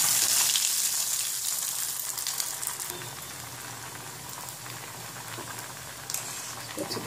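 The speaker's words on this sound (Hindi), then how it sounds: "चलिए इसको तल लेते हैं। तेल अच्छी तरह गर्म हो गया है। एक एक बॉल हम डाल देंगे इसमें।" Poha balls fry in hot oil with a steady, dense sizzle and crackle that stays loud and close throughout, easing slightly midway, with no talking.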